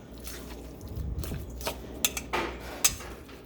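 Tuna salad with red onion, tomato and cilantro is stirred in a bowl, giving soft squishy scraping and a few sharp clinks of a utensil against the dish, close up and fairly quiet.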